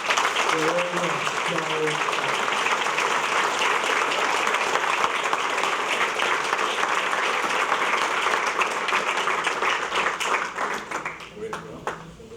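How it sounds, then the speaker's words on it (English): Dinner-event audience gives sustained applause for a Chamber of Commerce team, dense and even clapping filling the room for over ten seconds, with brief voices at the start and a tapering fade near the end. "Please give them a huge round of applause."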